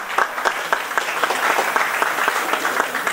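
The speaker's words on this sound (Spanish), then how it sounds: "Recibamos un fortísimo aplauso." A conference audience applauds steadily after a jurist is introduced, a dense, even patter of many hands clapping close and loud throughout.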